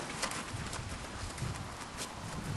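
Horse hooves clopping on the ground of a lunging ring as the horse is worked on the lunge, a steady walking rhythm of soft thuds under faint background noise.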